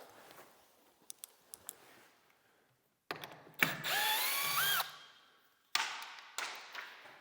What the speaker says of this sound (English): We're going to take this screw out.